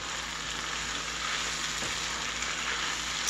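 Meat sizzling in a pot for potato corn chowder, with a steady, even frying hiss throughout and a brief stir partway through, no talk.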